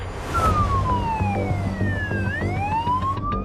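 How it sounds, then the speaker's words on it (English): An Australian ambulance siren wails continuously, its pitch gliding down and then rising again, close and loud over rumbling freeway traffic. "lights and sirens"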